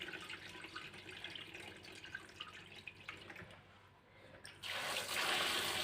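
Water poured and splashing while changing the brine on home-cured green and black olives, a steady running trickle that swells into a louder, fuller pour near the end, with no talking.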